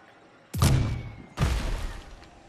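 Two heavy cannon blasts in Lego Fortnite, each a sudden loud boom with a rumbling tail, the first near 0.5 seconds and the second about a second later, with no talk between them.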